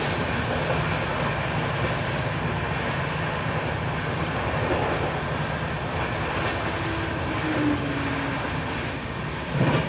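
Howrah–Lalkuan Express running on rails into Dhanbad, a steady, loud rolling rumble with continuous wheel noise and faint rail clatter throughout, no voices.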